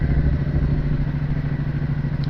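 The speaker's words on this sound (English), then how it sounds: "so the exhaust sounded quite good." A Triumph Bobber motorcycle exhaust idles nearby with a steady, throbbing low pulse, loud and continuous for a couple of seconds with no talk.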